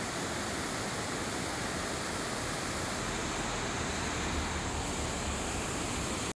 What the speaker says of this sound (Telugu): సో ఫైనల్గా అత్తరేపల్లి వాటర్ ఫాల్స్కి అయితే వచ్చేసాము.